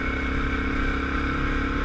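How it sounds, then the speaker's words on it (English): An ATV engine with an exhaust tip fitted runs steadily, a continuous mid-pitched exhaust drone heard up close with no voices. "Listen to that little bit of an exhaust note with that tip on there."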